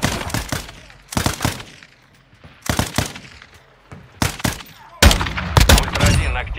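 Bursts of gunfire in Warzone DMZ, arriving in sharp clusters separated by short gaps, the final burst louder and denser, with no talk over it.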